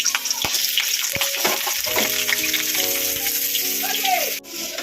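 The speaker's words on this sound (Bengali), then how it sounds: "তেলটা গরম হয়ে গেছে, আমি আলুগুলো এখানে ভেজে নেব।" Potatoes frying in hot oil while mutton is being cooked, a steady close sizzle with a few sharp crackles, partly overlaid by a sustained tonal voice or music layer.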